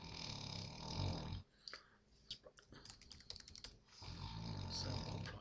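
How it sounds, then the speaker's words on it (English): Someone types on a computer keyboard, a quick run of light, irregular key clicks at close range, set between louder stretches of background noise. "I just typed sample and tapped off."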